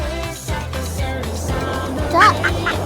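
A single duck quack rings out briefly near the end, set against steady background music.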